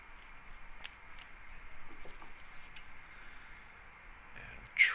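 Scissors trim double-sided tape on a toy dart magazine, making quiet snips and rustles close by in a quiet room, ending with one louder, sharp cut.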